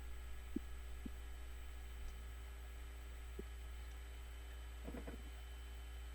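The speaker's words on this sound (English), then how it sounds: "air conditioner noise is catching on my mic" An air conditioner's low, steady hum is caught by a nearby microphone, a constant droning tone with a few faint soft clicks and thumps scattered across it.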